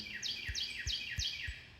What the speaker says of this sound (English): You hear those birds in the background?